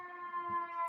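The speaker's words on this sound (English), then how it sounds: "There's an ambulance just go past." An ambulance siren on a Chicago street, heard faint and distant as a steady held wail, muffled as if through a window, with no voices.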